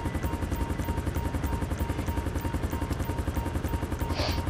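An ADAC rescue helicopter flies in a roleplay video game, its rotor thumping in a fast, steady chop over a loud, continuous engine roar that fills the scene without a break.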